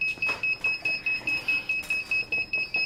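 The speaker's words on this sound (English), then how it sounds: "Sorry about the beeping." Rapid electronic beeping repeats steadily at about four beeps per second, a sharp high-pitched tone pulsing evenly and fairly loud near a desk with an FPV drone controller.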